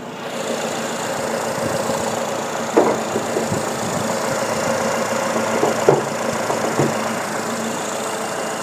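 A Nissan Grand Livina with the 1800cc MR18 four-cylinder engine runs at a steady idle. The hum is close and continuous, with a faint vibration and a few light knocks.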